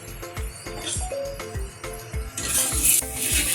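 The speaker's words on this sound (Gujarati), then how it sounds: "હવે આપણે એમાં તેલ ઉમેરીશું ફરતું ફરતું ને ઉપર પણ ચોપડી દઈશું, એટલે આપણું થેપલું સરસ ચડી જશે" A bottle gourd thepla flatbread fries in oil on a pan, with repeated scraping and tapping of a utensil and a sizzle that grows louder as oil is added.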